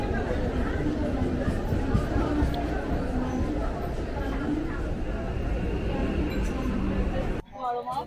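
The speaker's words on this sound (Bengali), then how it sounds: "ট্রেনে বিভৎস প্রচুর ভিড় হয়েছে দেখতে পাচ্ছি" Dense crowd chatter and babble fill a packed commuter train in Bengal, with occasional clinks, steady and close throughout before cutting abruptly near the end.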